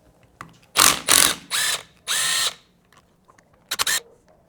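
Ratcheting hand tool with a 5mm Allen key loosening the handlebar clamp bolts on a 2024 Triumph Bonneville Bobber, four close bursts of clicking turns with short pauses, then a quick pair of clicks.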